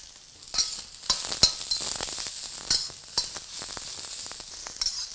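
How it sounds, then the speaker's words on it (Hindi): Chopped garlic, ginger and onions sizzling in hot oil for veg chowmein, a steady close fry with bright crackling, broken by spoon stirring and scraping in the pan. "ऑयल में हम डालेंगे थोड़ा सा चॉप्ड गार्लिक, थोड़ा सा चॉप्ड जिंजर"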